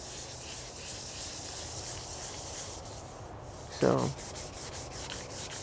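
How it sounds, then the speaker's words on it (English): Hand sanding of car bodywork on an OBS Chevy Tahoe with 400 grit paper on a soft block gives a steady close rasping rub, with one louder scrape near the end and a brief spoken word. "We're gonna go over to our soft block here and just start smoothing some things out."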